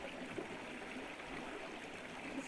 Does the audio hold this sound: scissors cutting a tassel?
no